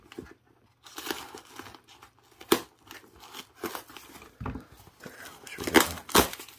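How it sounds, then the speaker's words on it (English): Someone rips open a taped return package padded with bubble wrap, making irregular bursts of crinkling, tearing and rustling, close up, with a few louder crunches near the end. "I guess I can just rip it open right here."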